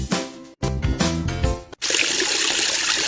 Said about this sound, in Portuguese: Escovar os dentes com a torneira aberta.